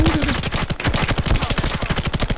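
Rapid automatic gunfire from a Bruen MK9 in Call of Duty Mobile rattles in loud, continuous bursts with a brief pause, close and dominant with no talking.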